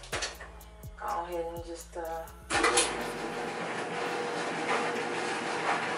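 A clothes dryer door clunks shut amid a few knocks and brief speech, then the dryer starts and runs as a loud, steady, close rumbling whir.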